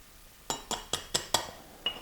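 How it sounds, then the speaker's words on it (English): Gunpowder for 6.5 Grendel reloading being tipped back into a metal powder pan, heard as a quick regular series of five sharp light clinks, then a sixth after a short pause, close and quiet. "Let me dump that back in the powder pan here. I'm going to dump that in slow now."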